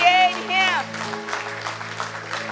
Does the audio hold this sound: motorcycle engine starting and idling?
no